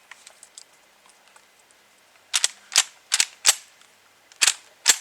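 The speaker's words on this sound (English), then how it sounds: "There's one Winchester old AA in there, and we'll shoot it first" A Hatfield SAS 20 gauge semi-automatic shotgun fires shells, including an old Winchester AA, with sharp, fairly close reports: a run of faint clicks followed by about six loud bangs spaced irregularly, some in quick pairs.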